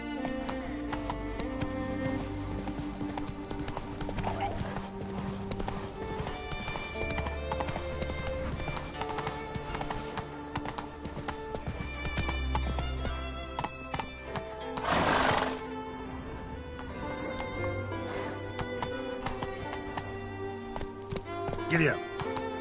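A horse trots with rhythmic clip-clop hoofbeats and whinnies, with a loud surge of noise midway, while a person speaks at times over the steady hooves.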